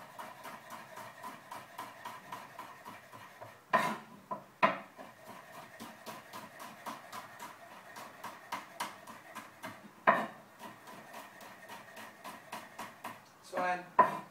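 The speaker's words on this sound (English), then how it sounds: "So with the garlic, again, just chop it up nice and fine." A knife finely chopping peeled garlic cloves on a board in a home kitchen, producing a long run of quick, even taps with a few heavier knocks over a low steady hum.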